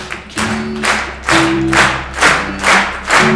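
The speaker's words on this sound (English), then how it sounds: "Clap or snap." An audience at a live event clapping or snapping along in a steady beat, about seven strong rhythmic claps over a sustained musical tone, close and loud.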